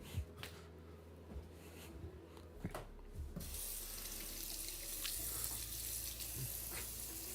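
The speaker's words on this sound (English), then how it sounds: "Currently washing my hands because I got resin on them." Running tap water splashes steadily into a sink as hands are washed to rinse off resin, a continuous close hiss with brief rubbing and dripping sounds and no talk.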